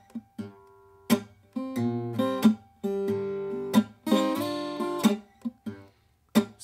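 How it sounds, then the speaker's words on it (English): A blues guitar is played with percussive first-finger downstrikes over an alternating thumb bass. Sharp, close strikes mix with ringing picked notes in a loose, steady groove, and no one speaks. "is to do a percussive downstrike with your first finger"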